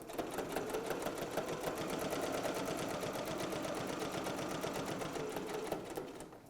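A sewing machine quilts a coffee cup design, its rapid rhythmic needle clatter running continuously up close for several seconds before easing off at the end, with no talk.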